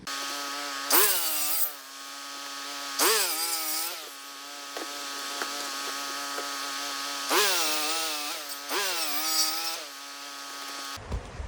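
A power saw cuts up a wooden rafter for a solar ground mount, its motor whining up and bogging in four bursts with quieter idle stretches between, ending in a sudden loud clatter.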